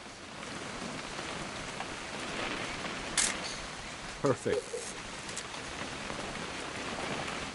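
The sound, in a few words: rain falling in the video game What Remains of Edith Finch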